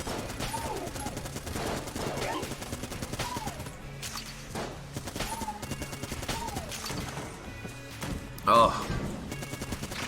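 Rapid, continuous gunfire from a run with infinite ammo in Enter the Gungeon, with chattering shots and recurring whooping weapon effects under quieter game music, plus a brief louder burst near the end and a short spoken exclamation.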